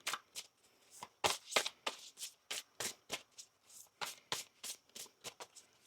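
A deck of tarot cards being shuffled by hand, a close, crisp run of about fifteen quick riffling flicks and slaps in an uneven rhythm, with no voices.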